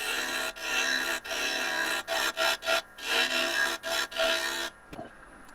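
A pointy gouge cuts into spinning myrtle wood on a lathe, producing a series of rough, rasping scrapes in short bursts separated by brief pauses, close and fairly loud, with the cutting stopping near the end.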